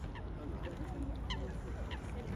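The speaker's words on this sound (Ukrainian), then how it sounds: "Білий лебедь." A white swan calls on a lake in London, a few honking, goose-like notes rising over steady outdoor background noise, moderately near and fairly faint.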